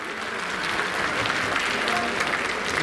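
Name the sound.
audience applause at Gorakhpur festival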